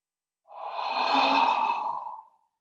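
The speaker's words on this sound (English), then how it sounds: "Bring your hands forward and strong exhale." A single strong, breathy exhale during a yoga session, close and clear, lasting under two seconds against silence.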